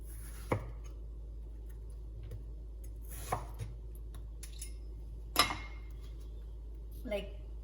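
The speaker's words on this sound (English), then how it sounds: "So we have to remove this skin, the hard skin, and then slice it lengthwise." A knife slices a hard-skinned vegetable lengthwise for aviyal, giving a few sparse, sharp cuts against a board with long quiet gaps and a low steady hum beneath.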